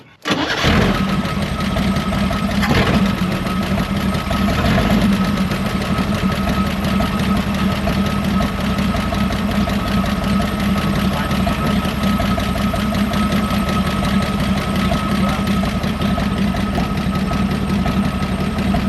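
Old Chevy Bel Air engine idling steadily after sitting for 45 years, a loud continuous rough mechanical drone with a faint ticking knock throughout, close by and alone.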